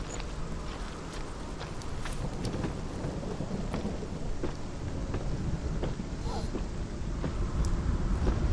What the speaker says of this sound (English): Gosh, it's raining. It's always so rainy here.